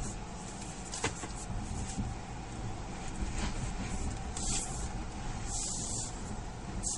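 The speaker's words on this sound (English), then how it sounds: "you hear the braking constantly working, just maintain the control of the vehicle" Jeep Grand Cherokee creeping down a sandy off-road hill in California with the brakes working constantly; a steady whooshing rumble runs throughout, broken by a few brief hissing bursts, with no talking.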